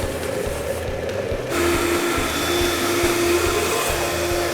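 A blender whirs steadily as it purees a shallot and garlic confit. Partway through, the motor shifts to a stronger, fuller drone with a faint rhythmic clatter underneath.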